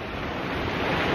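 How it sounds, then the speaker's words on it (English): Choppy North Sea surf breaking over an offshore reef, a steady close roar of waves with wind buffeting the microphone throughout. "it's a lot choppier and there are waves breaking"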